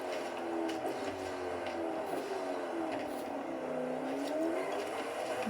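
A car engine screams at high speed in the racing game Forza Horizon 5, a continuous loud drone with slowly wavering pitch that holds throughout.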